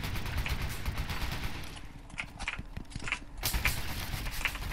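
Rapid bursts of AK rifle fire in the online shooter Brain Out, sharp repeated cracks in quick succession at close range, loud and continuous over an ambient game background.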